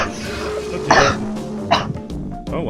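A patient in the Trauma Team video game coughs: a couple of short, harsh bursts close up, with throat-clearing rasps between them, over a low background game soundtrack.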